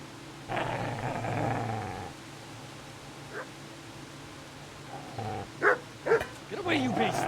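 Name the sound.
dog growling and barking in the video game Kingdom Come Deliverance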